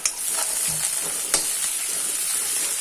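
Onions frying in a pan for chicken curry, a dense close sizzle with spatula strokes and scrapes stirring through it, steady and moderately loud with no talking.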